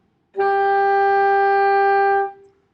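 A single sustained alto saxophone note, E, rings out steadily for about two seconds, then stops cleanly.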